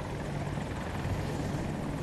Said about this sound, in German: Heli bei uns.